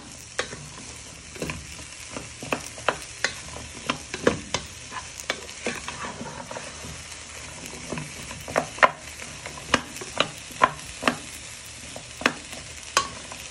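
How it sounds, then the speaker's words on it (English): Onions and courgettes are stirred around a pan for winter vegetable soup, a spoon scraping in repeated sharp knocks and strokes over a soft, constant sizzle, with no talking. "Get all the way round the pan."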